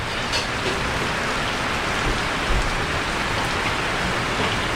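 Steady rain pours down in a rural provincial setting, a dense continuous hiss of drops on surfaces with no pauses, close and even throughout.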